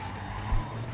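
Tires skid loudly as a truck pulls away in the video game Clustertruck, a short burst of screeching rubber over a low engine rumble with a brief louder thump midway.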